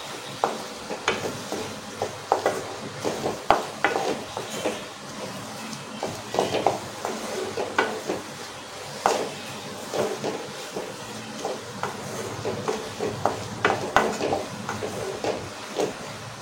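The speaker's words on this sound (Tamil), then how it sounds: "மீடியம் ஃப்ளேமில் வச்சு இது ஒரு 2 நிமிஷம் போல் நல்லா வதக்கி எடுத்துக்கோங்க" Spices sautéing in a pan over a medium flame, with continuous close frying hiss and crackle and frequent scraping, tapping stirs of a spoon against the pan, and no voices.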